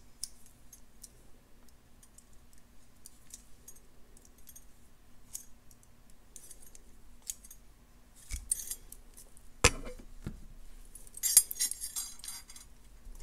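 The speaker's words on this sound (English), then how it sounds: "Snip off the excess, tuck in the little end if you see one" Small snips of pliers or cutters trimming excess jewelry wire while crystals and a chain are made into a necklace, quiet close clicks with a couple of sharper cuts and faint bead clinks near the end.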